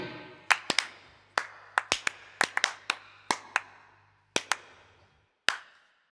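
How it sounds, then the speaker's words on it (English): Hand clapping in a song lands out of time, roughly a dozen sharp, loud claps in an uneven rhythm with short ringing decays over a faint low hum. "and then some out of time clapping"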